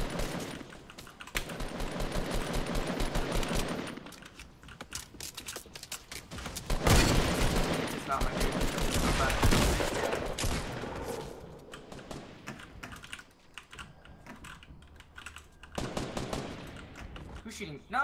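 Bursts of automatic gunfire and single shots in a Fortnite Battle Royale match, coming in dense clusters with quieter gaps between, including a loud heavy stretch in the middle.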